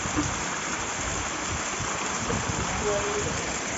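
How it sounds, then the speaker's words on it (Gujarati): Heavy monsoon downpour, a steady dense hiss of rain and running water filling the scene continuously and loudly, with no pauses. "અત્યારે જો બહુ જ પાણી છે ને ધોધમાર વરસાદ આવે છે"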